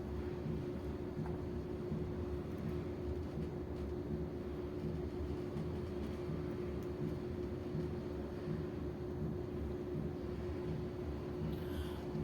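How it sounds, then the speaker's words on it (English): A ship's main engine running in the engine room of a merchant vessel, a continuous, even mechanical drone with a steady low hum and no pauses. "So this is the main engine. By this whole ship moves one place to another place."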